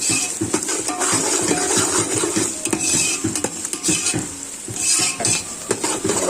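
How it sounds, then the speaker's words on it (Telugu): Onions frying in hot oil with curry leaves in a metal pan, a steady sizzle with repeated clinks and scrapes of a spoon stirring, close and busy. "ఉల్లిగడ్డలు కాగుతున్నాయి"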